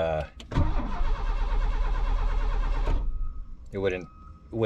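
A 1986 Mercury Cougar engine cranks steadily for a few seconds without catching, then cuts off abruptly; voices speak briefly before and after.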